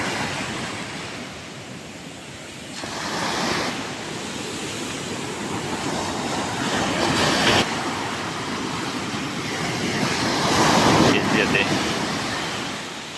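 Steady surf rolls in on Kalvi Bandar beach in Konkan, a broad rushing wash of waves swelling and easing over several seconds, with wind noise and a voice faintly under it.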